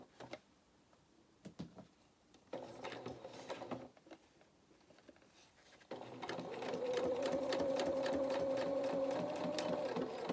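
A sewing machine stitches a faced lining seam in dressmaking, starting with short bursts and a quiet pause, then running steadily and louder in a rapid mechanical whir of ticking stitches.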